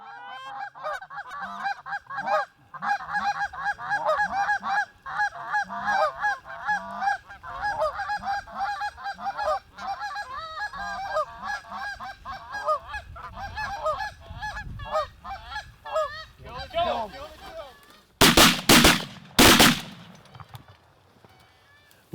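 A flock of geese flying over a field during a late-season goose hunt in Michigan honks continuously and loudly, many overlapping calls, then two or three sharp, loud shotgun blasts ring out near the end.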